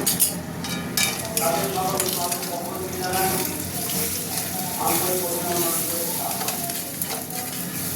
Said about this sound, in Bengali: একটু নেড়ে নেড়ে ভাজবো।